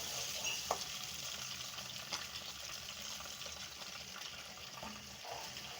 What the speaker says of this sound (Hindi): अब इसी तेल के अंदर जो है मैं प्याज जो मैंने रखा हुआ था वो डाल दूंगी।